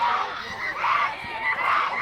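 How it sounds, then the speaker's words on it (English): The Doniphan Donettes softball team yells and cheers from their dugout on a full count, a dense wash of young voices rising and falling in waves. "the Doniphan Donettes dugout comes to life, cheering Harder on"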